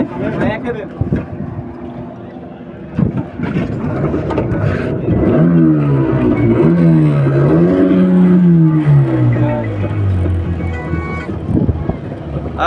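A speedboat engine drones steadily on open water, loud and close with strong wind buffeting the microphone, its pitch rising then sliding down as the boat changes speed, and voices talk over it.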